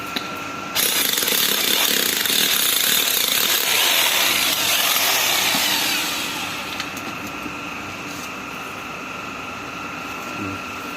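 A power tool drills into a leaking drain pipe in a cramped space under a building, a loud, continuous grinding whine that eases off partway through and keeps running at a lower level.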